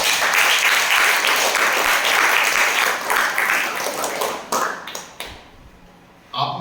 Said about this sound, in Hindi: लेकिन जोरदार तालियां